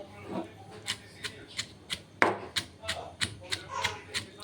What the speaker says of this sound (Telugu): ఈ విధంగా రోటి పచ్చడి రోట్లో దంచుకోవాలండి.